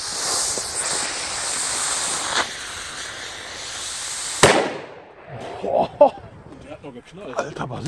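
A hissing fuse on a 1960s SAWIE Schwärmer firecracker runs for a few seconds, then a single sharp, loud bang. Afterwards people talk nearby.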